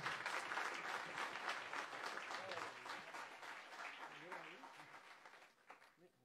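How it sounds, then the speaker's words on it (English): Audience applause following a sarod performance by Ustad Amjad Ali Khan and his sons, a dense burst of clapping from a crowd that gradually thins and fades out toward the end. "another big round of applause for Ustad Amjad Ali Khan and his sons"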